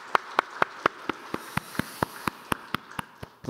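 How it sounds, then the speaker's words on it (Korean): A church congregation claps at a Sunday worship service, a steady evenly spaced rhythm of sharp claps ringing through the hall for several seconds, with no voices. "우리 하나님께 영광의 박수 올려드리겠습니다."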